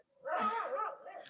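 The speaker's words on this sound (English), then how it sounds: "Joanne, careful, there's a dog behind you." A single drawn-out, whining bark or yelp from a dog during an indoor yoga class, fairly close and alone over quiet background.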